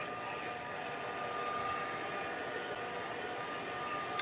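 A heat tool blows a steady, even airy whoosh while drying a small craft card piece, continuous and close for the whole stretch, ending with a brief click.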